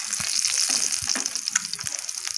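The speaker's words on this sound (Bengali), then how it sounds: "ডিমগুলোকে লাল লাল করে ভেজে নেব" Hard-boiled eggs fry in hot oil with a bright, spitting sizzle. Soft low knocks of the eggs rolling and turning in the pan stand out now and then.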